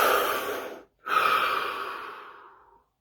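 Two deep breaths during meditation, a long steady inhale then a slower exhale that tapers off, close and soft with a brief silent gap between them and no talking.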